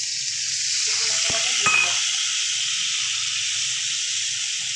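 Ginger-onion paste with cinnamon and cardamom fries in hot oil for a Bhetki fish kalia, giving a loud, constant hiss with a couple of quick stirring clinks early on.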